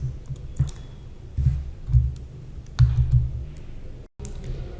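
Sharp, close clicks of a computer mouse used in Excel, a handful of separate single and double clicks spread across a quiet room, with no talking.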